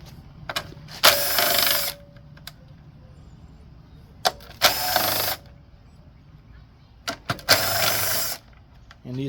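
Ratchet wrench working 5/16 socket bolts loose on a Briggs & Stratton engine intake manifold, three separate bursts of rapid clicking with small metallic taps and quiet gaps in between.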